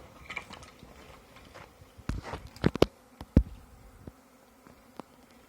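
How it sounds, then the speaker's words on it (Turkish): A honey bee swarm arrives at a hive, buzzing amid scattered sharp clicks and knocks, a busy swarm close by with irregular louder bursts. "Şu anda arı geliyor."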